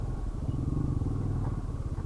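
A motorcycle rides along at Butalid Farm in Milagros, Masbate, Philippines, its engine putting out a steady low, throbbing rumble, close by and constant throughout.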